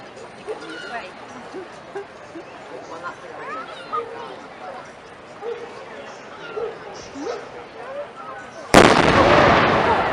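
A big gun fires at the Gloucester tall ships event, one loud, close blast near the end that follows a long stretch of crowd chatter and outdoor bustle.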